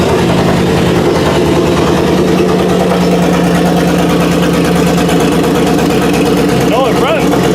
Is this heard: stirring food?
no